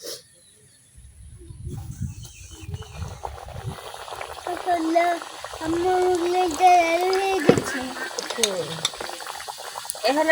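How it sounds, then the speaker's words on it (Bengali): A pocket mughlai, an egg-filled flatbread, sizzles and crackles in a pan with extra oil. The frying hiss runs steadily under a woman's speech, with stirring and utensil clinks nearby. "অল্প তেলে কিন্তু মোগলাই ভাজা লাগে"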